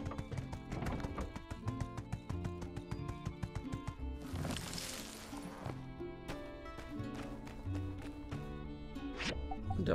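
Horse hooves clip-clop steadily in the My Time at Sandrock video game, a continuous rhythmic patter blended under layered game music throughout.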